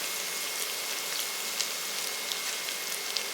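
Green beans, carrot, curry leaves and green chilies sauté in oil in a pan for wheat rava khichdi, giving a steady close crackling hiss with small pops throughout.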